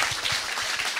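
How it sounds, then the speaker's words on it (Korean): Audience applause at a Korean talk show taping, a dense, steady patter of many hands clapping close and fairly loud throughout, with no voices over it. "박수 한번 박수 한번 주세요"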